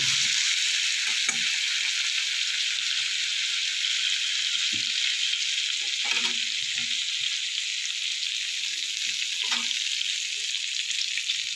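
Eggplant slices sizzle steadily in hot oil in a pan for a Bengali sesame-eggplant dish, a constant close hiss with occasional soft thumps of stirring and no voices.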